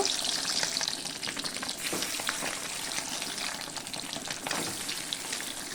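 Boiled eggs lightly frying in a pan with a continuous, even sizzle and hiss, occasional crackles and stirring scrapes, close and steady throughout.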